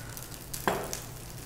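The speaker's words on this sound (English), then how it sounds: "to the pasta I'm heating here" Pasta reheating in a frying pan, giving a soft continuous sizzle with a brief louder crackle partway through as it is stirred, quiet and close with no talking.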